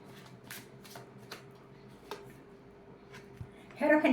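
Tarot cards are shuffled by hand in light, crisp flicks and taps spaced across a few seconds, close and quiet, ending in a louder riffling burst.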